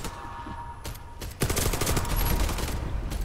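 Video game gunfire in a cooperative PvE mission set in Pripyat: a few isolated shots at first, then a sustained burst of rapid automatic fire that stays loud and dense to the end.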